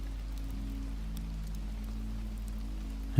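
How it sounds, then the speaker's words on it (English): Rain pattering steadily on the leaves of surrounding trees outside a cabin, a continuous, even hiss with soft layered drops and a low rumble beneath, unbroken for the whole stretch. "The rain hitting thousands of leaves at once"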